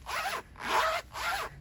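Zipper on a handmade Hawaii-inspired jumpsuit with a front zip, pulled in three quick close strokes, each a bright rasping run of teeth separated by brief pauses.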